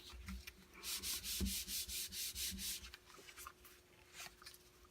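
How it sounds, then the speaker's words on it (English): Paper edges being burnished by hand while wrapping a note set, heard as a run of quiet, close rhythmic rubbing strokes, about a dozen back-and-forth swipes with brief pauses between them. "Tuck it around nice and tight. Burnish those edges."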